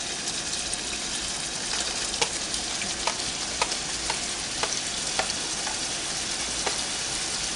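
Onions fry alongside browning ground meat for a taco salad, a dense, steady sizzle with regular sharp ticks of a spoon stirring against the pan.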